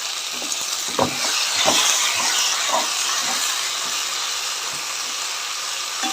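Ajwain leaves frying in a pan for a Telugu chutney, a loud continuous hissing sizzle that carries a few sharp spatula knocks near the start and then settles into an even, steady crackle.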